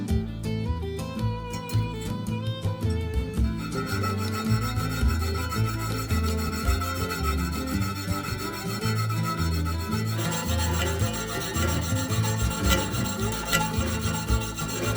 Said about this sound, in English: the vertical cuts are cut with the hacksaw